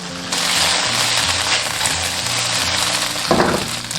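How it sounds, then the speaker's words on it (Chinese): Steady, loud sizzling of chicken legs pan-frying in hot oil throughout, with a brief burst of louder crackle near the end. "现在就可以稍微给它煎干一点"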